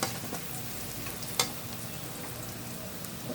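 Spices hiss and sizzle faintly in hot oil as they go into a pan for a duck curry with papaya and bottle gourd. A soft, steady fry continues with a brief sharp crackle near the middle.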